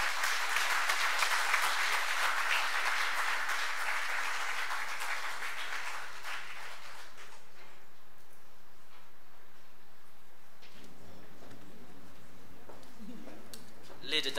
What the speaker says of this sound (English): Ladies and gentlemen, another round of applause for